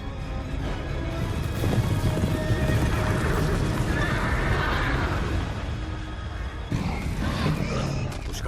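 Horses neigh and whinny loudly over hoofbeat clip-clop and a roaring creature, dense and continuous throughout, from an animated battle scene set against a horde of creatures.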